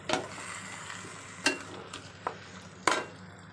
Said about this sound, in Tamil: கலந்த தயிர் சேர்த்தாச்சு. கிளறிக்கலாம்.